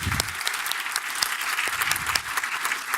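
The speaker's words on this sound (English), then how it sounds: "Can you please give Hype a round of applause?" Audience applause for a volunteer at a hypnosis talk, a steady wash of many hands clapping that fills the whole stretch at even loudness with no voices over it.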